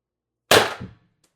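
A single sharp shot from a TR50 Torpedo, one loud close burst that dies away within about half a second, with no voices.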